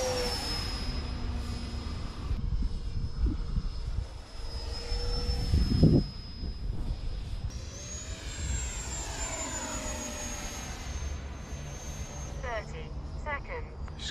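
A 64mm FMS Folland Gnat electric ducted fan model jet makes a low flyby, its high whine rising and sweeping in pitch as it passes, heard from the flying field with people talking and wind noise.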